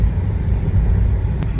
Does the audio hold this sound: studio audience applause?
no